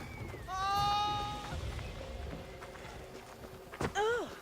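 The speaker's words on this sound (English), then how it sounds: "Come on, horsey. Where you going, horsey? Come on, horsey!" Horse hooves clatter in Assassin's Creed on PC, a steady clip-clop under a horse's whinny, with a man coaxing the animal and a second neigh near the end.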